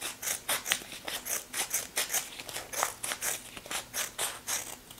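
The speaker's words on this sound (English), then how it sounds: "I'm going to cut these into 2 other strips" Scissors snip through kinesiology tape, cutting it into strips in a rapid, even run of about two dozen crisp close cuts with no speech.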